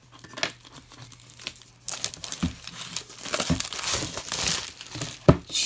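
A plastic-wrapped package of labels is torn open by hand, with irregular crinkling and rustling that comes in short bursts and grows busier and louder toward the end, close to the microphone, with no talking.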